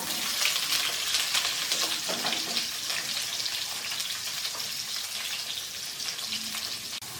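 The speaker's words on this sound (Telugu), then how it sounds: "ఇలా దీన్ని ఫ్రై చేసుకోవాలి. ముందుగా ఆనియన్స్ వేసుకుంటున్నానండి." Onions fry in a pan for paneer butter masala, a steady, close, moderately loud sizzle with occasional soft stirring movements and no voices.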